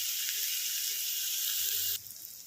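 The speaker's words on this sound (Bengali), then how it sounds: "দেখুন, হালকা করে ভেজে নিলাম এটা।" Food fries lightly in a pan on a hot home kitchen stove, a close, steady bright sizzle that abruptly drops to a softer hiss near the end.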